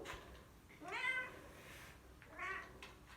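A cat playing with soap bubbles lets out two soft, drawn-out meows about a second apart, quiet and close indoors, with no talking.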